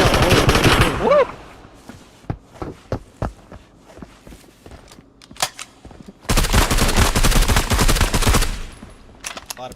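Rapid automatic gunfire in a shooter game, loud dense bursts at the start and again later, with scattered single shots and footsteps between them.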